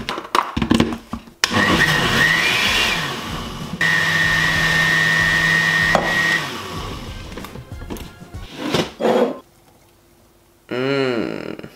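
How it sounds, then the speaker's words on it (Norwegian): An electric blender whirs loudly while blending a protein shake, running in long steady bursts with pauses and pitch changes between them, close to the microphone and without talk. "Nå gjenstår det bare å blende den skitten her opp."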